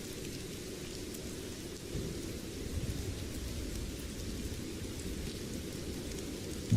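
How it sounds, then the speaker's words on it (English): Steady rain falls outside a window at a Tranmere v Bradford football match, a constant close wash of hiss and patter that swells slightly midway, with no talk over it. "oh, it is raining, you can see."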